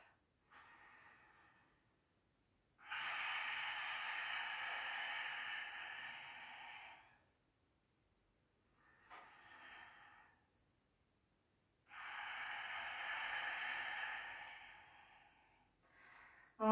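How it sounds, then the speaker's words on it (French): Slow, deliberate throat breathing during a yoga exercise, with air rubbing audibly in the throat. A short breath is followed by a long, steady rushing one, and the pair repeats, separated by pauses of silence. "Faites bien frotter l'air dans la gorge."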